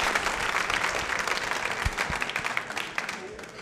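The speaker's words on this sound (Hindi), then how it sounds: "तालियां जोरों से बजाइए" Applause from a nursing college audience at a quiz show, a thick continuous patter of clapping with a few sharper individual claps standing out toward the end and some murmured voices beneath.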